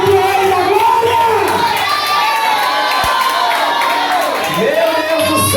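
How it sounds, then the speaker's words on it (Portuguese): A church congregation at a Pentecostal service in Natal claps, cheers and whoops loudly together, a dense continuous roar of crowd voices and applause that holds steady throughout. "Você pode aplaudir ele agora?"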